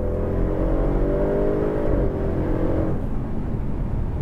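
A 2016 Audi RS7 accelerates hard to pass, its engine note rising in a steady, loud, close drone heard from inside the car, with no talking.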